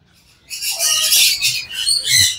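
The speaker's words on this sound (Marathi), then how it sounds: "आणि पक्ष्यांचा किलबिलाट पहा किती एकदम मस्त आहे." Birds chirp and squawk together in a farm aviary alongside guinea fowl, hens and goats, starting after a brief quiet moment and carrying on as a dense, fairly loud twittering chorus.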